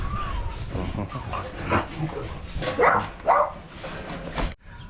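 Dogs whimper and yip in short bursts at close range amid background rustle and faint talk.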